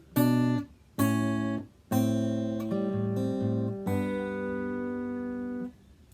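Plucked acoustic guitar notes ring out in a short phrase from the interlude of a song: a few separate strums, then sustained chords that let ring and fade. No voices.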